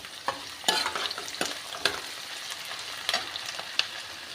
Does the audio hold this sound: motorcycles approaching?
no